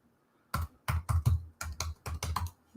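Typing a password on a 2017 13-inch MacBook Pro keyboard, close and fairly loud, with about eight chunky key-press bursts in an uneven rhythm.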